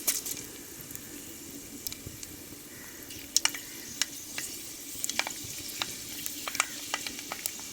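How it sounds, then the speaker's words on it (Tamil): Mustard seeds and urad dal sizzling in hot oil, with a steady frying hiss broken by sharp crackles and pops that come faster toward the end, close and fairly loud. "எண்ணெய் சூடாயிருச்சுங்க ரெண்டு கடுகு உளுந்து போட்டுக்கிறோம்"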